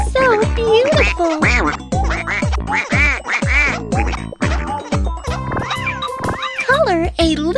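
A cartoon duck in a children's coloring game quacks repeatedly in a steady rhythm, loud and close over playful background music, followed by a cheerful narrating voice.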